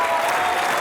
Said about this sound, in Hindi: खैर एक बार प्रेम जी के लिए, रंजीत जी के लिए और निकेतन के लिए जोरदार तालियां